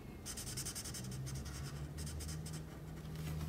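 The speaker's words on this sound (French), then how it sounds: "je commence avec la couleur ambre des Pro Markers, avec laquelle on va dessiner ici, colorier pardon" An amber Pro Markers alcohol marker colours on paper in soft, steady scratchy strokes, close and quiet, with a faint continuous hum underneath.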